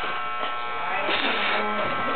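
Electric clippers buzz steadily and loudly while a head is shaved, with a constant close drone and slight changes as the blades move, and voices talk over it.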